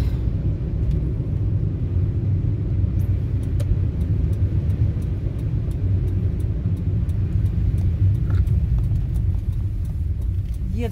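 Inside a moving car driving near Kauchuk stadium, a constant deep engine and road rumble fills the cabin, steady and even throughout with faint ticking on top.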